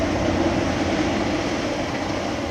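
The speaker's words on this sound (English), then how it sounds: "Wonder if that's the Kingston, Montreal, or Ottawa train going by." A train rumbles past on nearby tracks, a steady, dense roar with no clear gaps that holds at the same level throughout.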